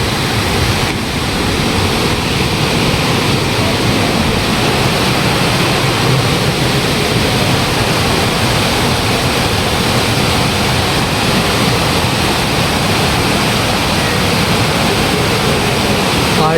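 Areekkal waterfall near Piravom, Ernakulam roars as a loud, unbroken rush of water that stays even and powerful throughout, with no other sounds rising above it.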